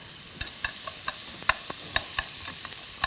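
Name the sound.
vegetables stir-frying in a deep bowl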